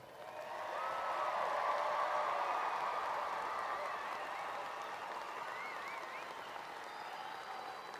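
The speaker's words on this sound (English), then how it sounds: "Family and friends, let's give them a massive round of applause." Sustained applause from a commencement audience of family and friends honoring the Ozarks Technical Community College graduating class of 2026, a dense steady wash of clapping that swells quickly and holds for several seconds, with a few faint cheers and whistles.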